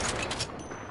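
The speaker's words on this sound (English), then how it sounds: "Shot fired." Gunfire rattles out in a PS4 shooter game as a loud, dense burst of rapid overlapping shots lasting about a second.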